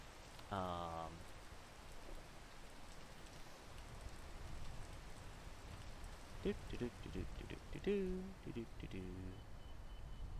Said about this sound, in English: This is the other problem with the rain.